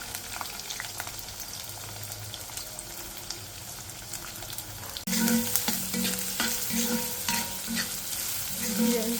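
Finely cut onions frying slowly in oil after green chillies, a steady sizzle that jumps louder halfway through, with repeated stirring scrapes and clatter against the pan.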